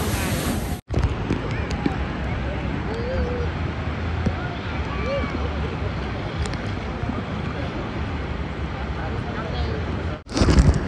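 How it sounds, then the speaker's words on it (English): Ocean waves breaking at Waikiki Beach in Honolulu, near a breakwater, roll as a steady broadband wash with wind buffeting the microphone, while people talk over the surf. "So we out here in the waters of Wykiki Beach. See the waves behind me."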